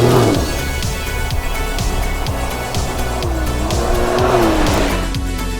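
A 2024 Can-Am Ryker Rally three-wheeler motorcycle rides along, its engine drone steady and close with repeated rising and falling revs and gear-change sweeps throughout.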